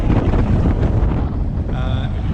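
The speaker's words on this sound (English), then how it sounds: "it is incredibly windy here down in Peguera" Strong wind at Peguera, Mallorca, buffets the microphone in a constant loud roar, with a brief tonal whine near the end.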